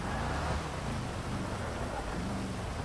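Rain hisses steadily with a low rumble of thunder in GTA V, a constant, moderately loud wash of noise with no voices.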